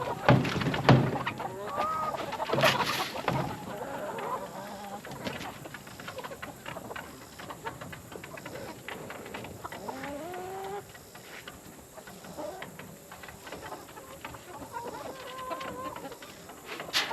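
Layer hens on an egg farm cluck and call, scattered rising and falling clucks from several birds at close to moderate distance, with a few sharp knocks early on and no talking.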